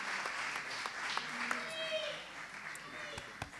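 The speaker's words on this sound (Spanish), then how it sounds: "Pido un aplauso enorme" Audience applause at the Nuevas Miradas 2017 awards ceremony, a steady moderate wash of clapping with scattered sharper claps and some voices and whistles mixed in, sounding a little distant.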